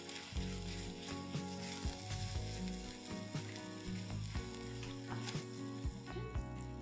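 Cooked curd and garam masala are stirred in a hot pan, sizzling and frying steadily while a spoon scrapes and clatters at an irregular pace, close and fairly quiet.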